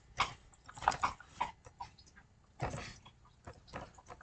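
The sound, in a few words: English bulldog chewing a bone on a couch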